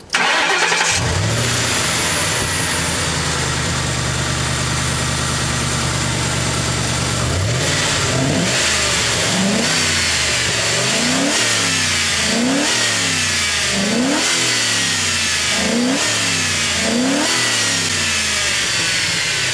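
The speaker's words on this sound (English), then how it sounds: "Starts up pretty well, so we're just going to listen to it rev and see how you guys dig it" A Ford Crown Victoria fitted with a new throttle body cranks and starts, settles into a steady idle, then is revved repeatedly in a regular rhythm of about eight rising-and-falling blips, loud and close with no voices.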